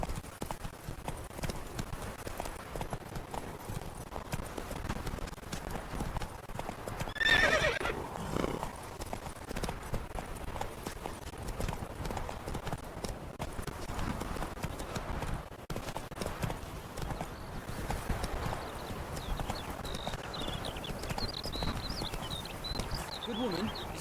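A horse in The Witcher 3 video game gallops along with rapid rhythmic hoofbeats and a whinny, a continuous clattering run with game ambience underneath.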